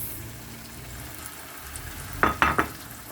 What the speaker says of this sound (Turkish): Artık domates rendelerimizi ekleyebiliriz.